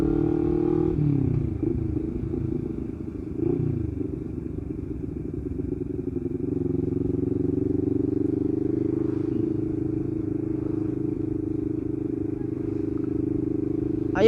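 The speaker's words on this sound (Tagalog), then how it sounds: "kung naririnig ninyo, talagang sobrang ingay ng tambutso niya" A CF Moto motorcycle with a loud open exhaust pipe rumbles steadily close by, with a loud low drone and a couple of brief revs.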